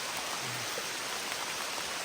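Steady rain falls in a continuous, even hiss, faint and unbroken throughout, with no voices.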